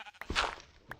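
Sheep in Minecraft give a few bleats in quick succession, one long central bleat flanked by shorter calls, moderately close and alone with no talk.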